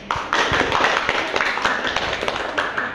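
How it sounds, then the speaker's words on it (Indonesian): Students clap together in a classroom, a close, dense patter of hand claps running steadily for about three seconds with some talking mixed in. "Silakan beri tepuk tangan untuk adik."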